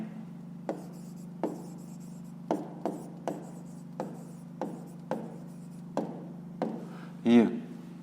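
A pen writing by hand on paper while working a fifth-grade math exercise: short, separate scratching strokes at an irregular pace over a steady low hum, with a louder, longer scrape near the end.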